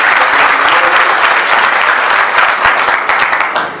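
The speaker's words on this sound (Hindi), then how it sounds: "उत्साहवर्धन के लिए जोरदार तालियां बजा दीजिए" A crowd at a Hindi poetry recital bursts into loud, sustained applause, a dense wash of clapping that holds steady and then begins to fade at the end.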